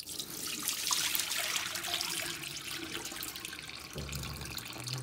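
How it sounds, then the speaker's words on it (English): Soaking water is poured off salt cod, splashing steadily into a sink, a continuous rushing trickle close by. "I'm going to go ahead and pour the water off."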